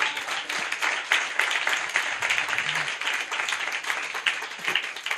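Loud, dense clapping from a church congregation at a night gathering in Maharashtra, a steady broadband patter of many hands that keeps going for the whole stretch with no voices on top.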